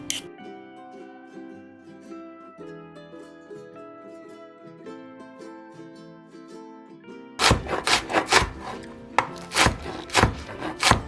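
After several seconds of background music, a knife thinly slices cabbage, scallion and carrot on a board in a rapid run of close, crisp strikes, each chop loud and distinct.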